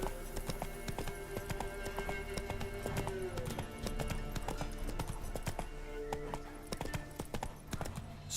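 Roach the horse galloping in The Witcher 3, with a fast, even clip-clop of hooves close up and a brief whinny. A voice speaks over the hoofbeats at times.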